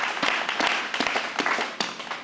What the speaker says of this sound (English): I just want to give a quick round of applause to Noah and just celebrate him for all his